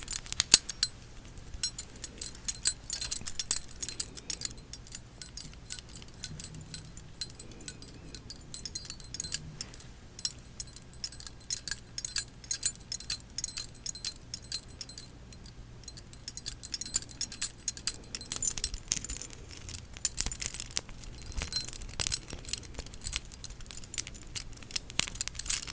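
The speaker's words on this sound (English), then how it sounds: "Keys." Metal keys jangle and clink continuously in close, crisp bursts for over twenty seconds, with no talking.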